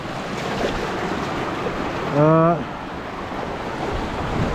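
Small waterfalls in a Jordanian wadi give a steady, close rush of splashing water throughout, briefly overlaid by a short tonal sound near the middle.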